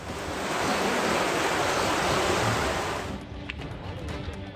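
Heavy downpour and flooding water in streets across Gujarat, Rajasthan and Maharashtra make a loud, dense, roaring rush for about three seconds, then cut to a much quieter background.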